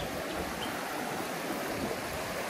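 A clear-water stream in the Dominican countryside flows steadily with an even, close, hissing rush and no breaks or voices.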